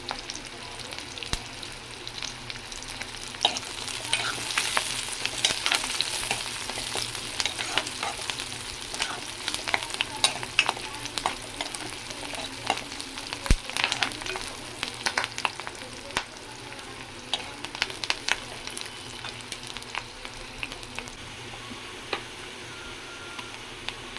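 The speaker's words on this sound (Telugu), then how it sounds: "ఆనియన్ కూడా ఫ్రై అవుతుంది" Onion, green chillies and curry leaves frying in oil in a pan for a crab curry, a continuous close sizzle with scattered pops and occasional spatula scrapes, quiet and steady throughout.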